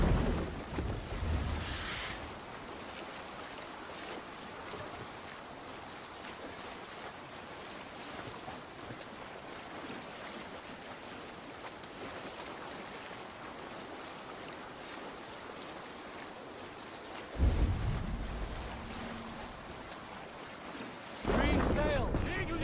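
Sailing ship crossing open sea in Assassin's Creed Valhalla, with steady wind rush and washing waves throughout, brief bursts of voices near the start and end.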